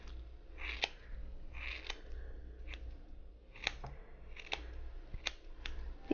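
Thinning shears snip doll hair in several distinct, quiet cuts spaced irregularly, close to the microphone.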